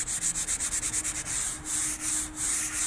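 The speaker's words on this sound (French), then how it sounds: "On dirait que ça part avec l'éponge, frotte bien." Sponge scrubbing over a stone surface, a rhythmic series of quick rubbing strokes followed by longer slower sweeps, close and moderately loud with no talk.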